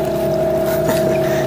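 A Parsun T15BMS 15 hp outboard motor on an inflatable boat drones steadily and loudly close by, a continuous engine hum with wind noise and no pauses.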